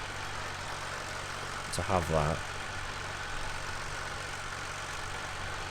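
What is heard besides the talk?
tractor engine running in a farming video game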